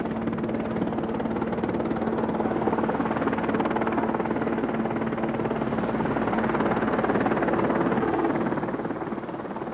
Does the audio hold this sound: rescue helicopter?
yes